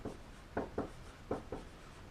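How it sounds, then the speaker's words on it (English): A pen or marker writes by hand on a surface during a math lesson on parallelogram area, four short scratchy strokes in two quick pairs, close and fairly soft, with no talking. "let me write it down for you"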